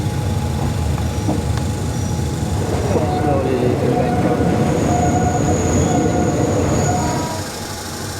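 A train rolls into a station on the line to the River Kwai, Thailand, with loud rumbling and high squealing brakes, the noise easing off as it slows to a stop near the end.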